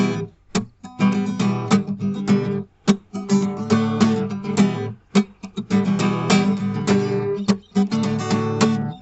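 Three guitar chords are played in sequence, strummed in a fairly steady rhythm with short gaps between strokes, close and clear with no voice present.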